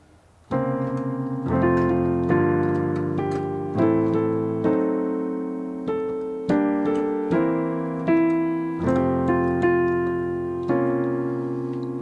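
A sequence of rich, sustained jazz piano chords from "O Tannenbaum", played one after another at a steady, unhurried pace, each ringing and fading before the next, no voices.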